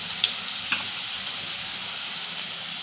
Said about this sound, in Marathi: ह्याचा छान असा तडका घ्यायचा आहे